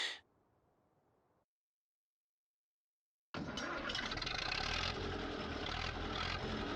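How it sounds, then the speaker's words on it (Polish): A Zetor 6011 tractor engine idles evenly at low revs while still cold, just after starting. Its loud steady chug comes in after a brief faint noise and a few seconds of silence, with no talk. "O widzi pan, jak zetorowski silnik równo pracuje."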